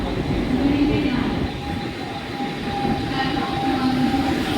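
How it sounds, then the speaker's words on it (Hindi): A Mumbai local fast train rushes through a station platform, a steady loud rail roar with wheel hum and a faint squealing tone running through the whole stretch. "Fast train is passing."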